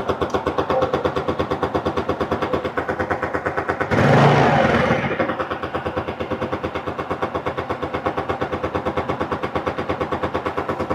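A Yamaha Mio Sporty scooter with a diaphragm-type carburetor idles in a fast, steady putter, then swells briefly into a louder rev before settling back to the same rapid idle.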